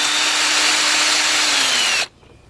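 A power drill with a 10mm deep socket on a 1/4 inch drive removes a bolt from the air cleaner assembly of a Chrysler Sebring or Dodge Journey or Avenger, a loud close whine for two seconds before stopping abruptly.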